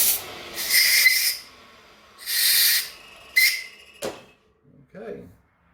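A metal lathe in a workshop makes a light finishing cut on a chamfer for a tailstock knob: several short hissing, whistling bursts of cutting separated by pauses, then a knock and a brief bit of talking.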